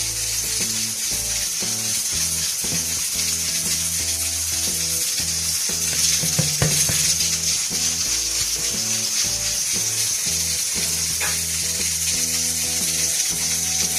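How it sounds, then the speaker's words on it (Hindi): Steady bubbling hiss of water boiling in a pot, continuous and close, with soft music playing underneath. "देखिए अब पानी को उबाल आ गया।"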